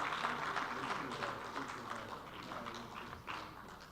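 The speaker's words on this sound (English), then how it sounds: "Please, let's give her a round of applause." Audience applause at a plenary session of the Kofi Annan Peace and Security Forum 2024, a continuous crowd of clapping hands at moderate level, steady for the whole stretch with slight dips.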